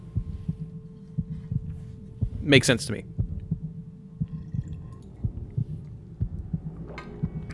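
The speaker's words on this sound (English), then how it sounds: "We get to hear Geralt's heartbeat for the rest of the game." A steady, rhythmic heartbeat belonging to the main character in The Witcher 2, low thumps repeating evenly throughout under a low hum, with a brief burst of other game noise and a few spoken words.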